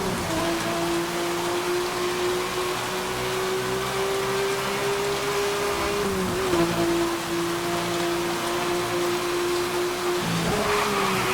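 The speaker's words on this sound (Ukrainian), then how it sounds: "А це в нас дощ" Steady patter of rain runs beneath a continuous engine drone with a slowly shifting pitch, loud and close throughout, in the video game Need for Speed: Hot Pursuit (2010).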